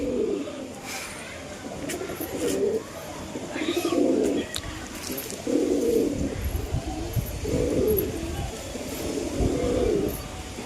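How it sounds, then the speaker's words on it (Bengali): Desi-line Giribaz pigeons coo in a steady repeating rhythm at close range, the soft coos rising and falling over a low background rumble as four birds are sent up into the sky. "তো ভিউয়ার্স 4টে কবুতর আকাশে দিলাম"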